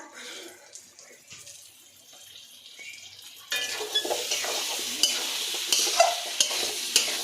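Potatoes with spices stir-fry in a pan, quiet scraping at first, then a louder sizzle with sharp clinks of the spoon against the pan as stirring continues.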